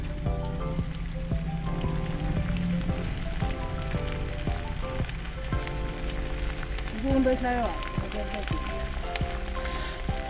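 Gond, the edible gum, frying in a pot of hot oil for a desi winter dish, with a steady dense sizzle and bubbling that continues without a break, close and loud throughout.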